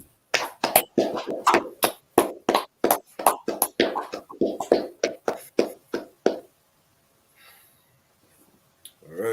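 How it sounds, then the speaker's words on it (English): Hands clapping at the close of a Saturday night scripture class, a quick run of sharp, close claps in an uneven rhythm that stops suddenly, leaving near silence before a final sound. "Let's clap it up."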